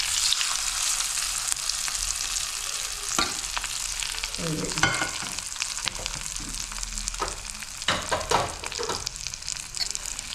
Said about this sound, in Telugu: ఆఖరణ కరివేపాకు పోసేస్తున్నాము